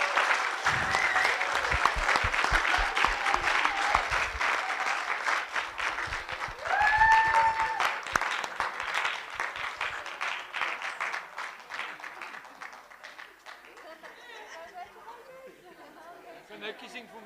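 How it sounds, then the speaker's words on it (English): An audience at a low-tech innovation competition awards ceremony claps loudly for a third-place team. The clapping runs for several seconds amid chatter and a presenter's voice, then fades to scattered claps. "Give them a round of applause."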